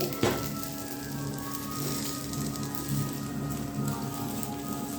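Eggplant slices frying in a covered pan with very little oil give a soft, steady crackle and patter like light rain, continuous and fairly faint with no talk.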